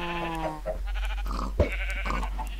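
Sheep in Minecraft bleating in a short, wavering call, followed by a couple of further bleats and animal noises, close and fairly loud.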